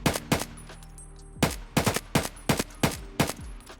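Rapid gunfire from a rifle in the video game Escape From Tarkov: a quick burst of shots, a pause, then a longer string of close, loud, evenly spaced bursts.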